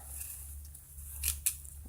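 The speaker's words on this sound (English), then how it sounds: "So let's try to cut some apple." A Grand Way 1333 kitchen knife with a thin 2.5 mm blade slices through an apple, giving two short crisp crunches close by over a low steady background hum.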